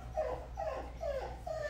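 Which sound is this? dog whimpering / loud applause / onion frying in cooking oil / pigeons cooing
dog whimpering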